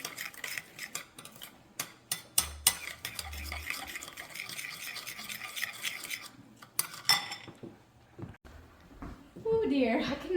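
A spoon scrapes and clinks against a pot as a simple dinner dish is mixed with a little parsley, the rapid stirring going on under a person talking before it quiets toward the end.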